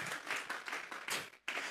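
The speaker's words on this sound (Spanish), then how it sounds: "Regálele ofrenda de palmas al Dios de la gloria" A church congregation applauding in offering of praise, a short burst of close, rhythmic clapping pulsing in waves with a brief gap near the end.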